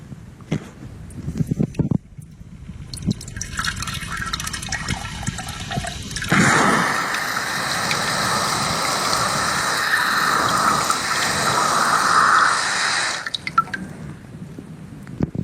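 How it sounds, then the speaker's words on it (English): A Samodra Button Bidet Classic 8.0 sprays water in a steady, loud hissing rush for about seven seconds, preceded by faint handling noises and ending abruptly. "to illustrate the function of the Samodra Button Bidet, it's time for the hummus hose down"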